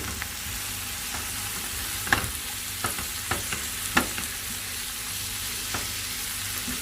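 Blackfish being stirred in a cooking pot for a SVG delicacy, several distinct scraping and knocking strokes of the spoon over a low steady simmer, close and moderately loud with no talking.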